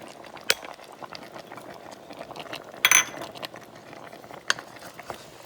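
A covered pot of plantains and peas with green pepper simmers on the stove, giving a steady soft bubbling with a few sharp lid or utensil clicks.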